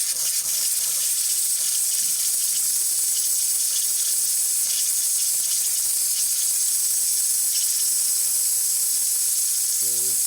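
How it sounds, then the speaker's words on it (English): Rancilio Silvia espresso machine steam wand giving off a steady, loud hiss that runs unbroken for about ten seconds, heard alone with no talking. "the steamer needs a little bit until it gets hot"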